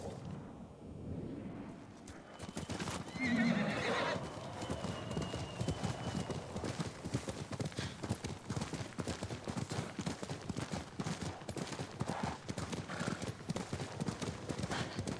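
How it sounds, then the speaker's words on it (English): Hooves of a galloping horse in the Ghost of Tsushima video game clatter in a fast steady rhythm, with a whinny early on, quiet and set against a soft ambient backdrop. "This is where Waldred's riding the horse."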